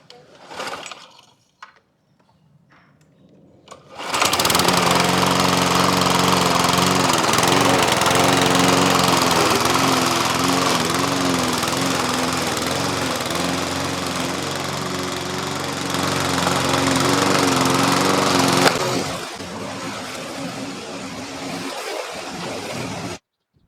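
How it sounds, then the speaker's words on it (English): A lawn mower cuts grass short on a lawn being repaired with seed, starting after a few seconds of quiet and droning steadily and loudly at close range, then cutting off near the end. "so let's go ahead and cut the grass"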